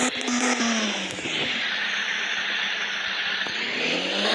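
In an Indian off-road car simulator game, a Mahindra Scorpio's engine revs continuously, a bright, steady synthetic engine whine that rises and dips slightly with throttle, at moderate level without talk.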